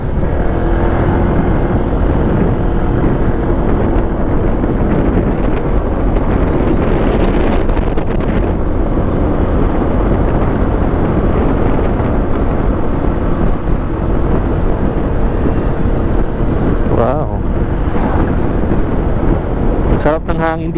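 Strong wind roars and buffets the microphone without pause, a dense, loud rushing noise that fills the whole stretch.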